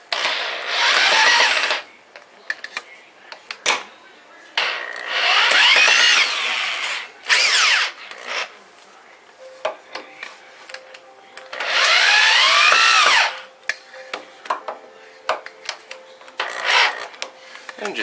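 A power drill drives screws into a wooden brewing bench in several loud, whirring bursts of a few seconds each, separated by quiet gaps with clicks and handling noise.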